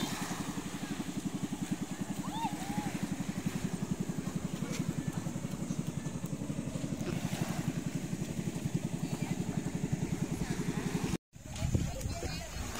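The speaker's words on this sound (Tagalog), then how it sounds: "may papalapit na bangka" A steady, pulsing engine of an approaching boat drones throughout on the sea off a beach in Nasugbu, Batangas, nearby and fairly loud, with water and wind noise; a brief dropout near the end.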